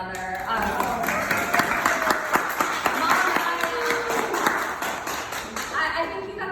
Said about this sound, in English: round of applause for my grandmother.